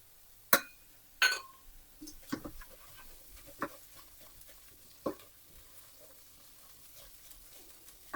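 Turmeric and coriander powder frying in a pan of oil, with a faint sizzle under a few sharp, close clacks and scrapes from the stirring utensil, fairly quiet overall, with no talking.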